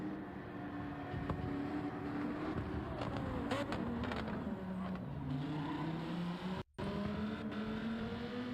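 Lamborghini race car in a GT racing video game, its engine droning steadily throughout with rising and falling pitch as it shifts and accelerates, cutting out briefly near the end before resuming.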